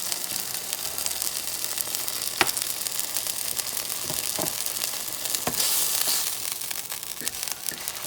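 Scallops sear in extra virgin olive oil in a pan, seasoned with salt and pepper, giving a steady close sizzle and crackle with a few sharper pops throughout.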